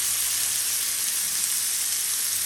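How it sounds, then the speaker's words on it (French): Fish and seafood skewers sear in olive oil in a hot pan, giving a steady, close, bright sizzle that holds without break throughout, with no talk. "Et je viens donc déposer mes brochettes. On vient saisir assez vite."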